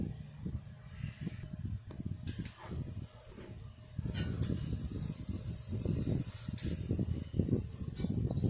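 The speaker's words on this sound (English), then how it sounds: "I'm gonna take the stamp rag and I'm gonna wipe this thing down" A rag rubs over a part of a 1960s General Electric Hassock fan in soft, uneven scrubbing strokes, close and fairly quiet, with short pauses and a busier stretch of wiping toward the end.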